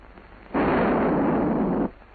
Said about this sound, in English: After he's let go of the safety arm, it'll detonate in 5 seconds.